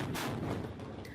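A loud, dense boom fills the clip, a deep blast with rumbling low end and a brief sharper burst near the end.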